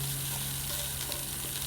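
Onions fry in a pot for a simple curry, giving a steady, close sizzle with soft crackle that runs without a break, fairly quiet, with no talking.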